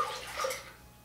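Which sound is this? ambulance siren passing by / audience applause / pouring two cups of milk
pouring two cups of milk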